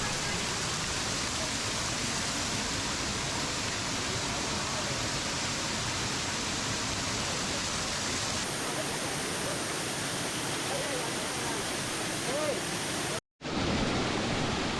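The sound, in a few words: Kiliyur waterfall flowing heavily after rain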